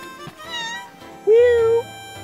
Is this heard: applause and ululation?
no